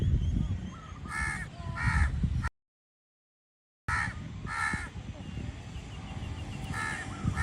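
Crows caw overhead outdoors in Phuket, Thailand, near Saphan Hin: harsh calls come in repeated pairs and triplets over steady street and wind noise, with a brief dropout of silence partway through.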